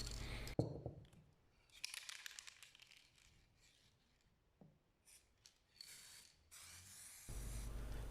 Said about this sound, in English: It is aerosol spray paint